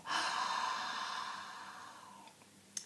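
Slow breath drawn through a narrowed throat in Ujjayi style, a steady hissing ocean-like rush lasting about two seconds that gradually fades, followed by a faint click.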